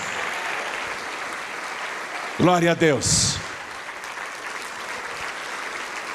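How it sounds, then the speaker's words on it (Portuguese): A church congregation applauds steadily in the background, sustained clapping from many people, while a man briefly exclaims over it midway. "vamos aplaudir mais ao nome de Jesus"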